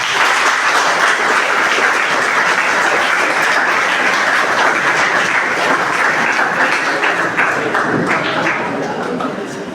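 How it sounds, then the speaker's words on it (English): A class audience breaks into a big round of applause, dense sustained clapping filling the room, loud and steady before tapering slightly near the end. "A big round of applause."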